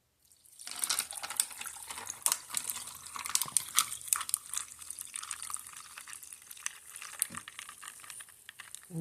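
Freshly brewed morning coffee pours into a cup with a close, trickling liquid splash that starts after a moment of quiet and runs on with uneven spurts and drips.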